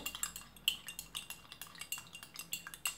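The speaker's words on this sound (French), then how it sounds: "Moi, je vais ajouter la sel avec l'huile ici. Je veux bien la mélanger." A spoon stirs herbal tea mixed with salt and oil in a cup, giving a steady run of light clinks and scrapes, close and fairly quiet, with no talking.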